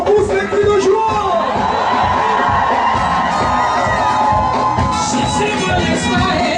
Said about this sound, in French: On pousse les cris de joie.